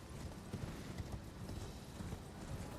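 A horse in Elden Ring clip-clops along in a steady rhythm of hoofbeats over a dense, rumbling game soundscape, moderately loud and continuous throughout.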